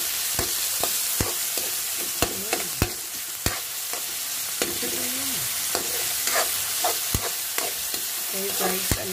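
Sardines frying in a hot pan with onion and tomato, stirred now and then: a steady, close sizzle with sharp utensil clicks and scrapes against the pan, and no voices.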